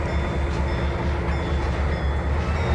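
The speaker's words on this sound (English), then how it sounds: "let's put the train brake on" A simulated train in Trainz 2022 rolls steadily along the rails with a continuous low rumble and faint metallic squeals as the brake is applied, loud and unbroken with no talk.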